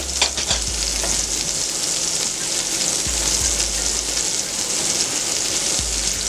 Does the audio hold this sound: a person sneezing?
no